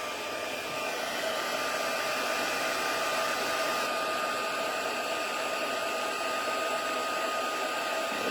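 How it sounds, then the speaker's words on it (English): A handheld heat tool blows steadily on embossing powder in a card-making session, making a continuous hair-dryer-like whoosh with a faint whine at moderate distance, with no talking. "blast that with the heat tool"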